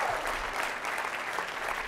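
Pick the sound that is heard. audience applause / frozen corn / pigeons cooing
audience applause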